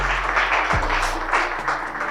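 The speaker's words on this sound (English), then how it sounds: "STINO, THWENNY, please give them a round of applause." Audience applause for special guests at a social club event, a steady broadband wash of clapping from a crowd throughout, fairly loud and continuous with no clear voices.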